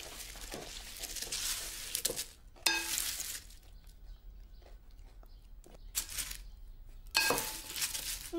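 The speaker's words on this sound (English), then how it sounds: "I need a good stir now" Food stirred in a pan in a kitchen, with clinking of a utensil against the pan and soft scraping over a low background hum, several louder clattering bursts spaced apart.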